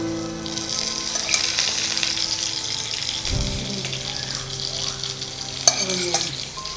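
Drumsticks (moringa pods) frying with garlic in a pan make a steady, close crackling sizzle, with occasional soft stirring scrapes and a brief clink near the end.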